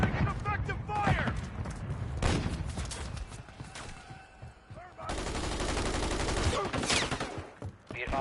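Rapid bursts of automatic gunfire in the Call of Duty video game, loud and close, coming in heavy volleys broken by short lulls, with game voices calling out over the shooting.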